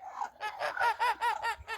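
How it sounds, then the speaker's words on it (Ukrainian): Ducks fighting among themselves in a farmyard, giving a rapid run of about seven harsh, nasal quacks close by, rising to a loud squabbling peak in the middle. "Качки, між іншим, б'ються не гірше, чим б'ються качурі"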